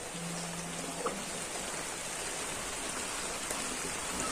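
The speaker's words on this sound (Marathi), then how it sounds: "बाहेर पाऊस चाललाय" Continuous rain falling outside on a farm in the Satpuda forest, a steady soft hiss with occasional faint drips and a brief low hum early on.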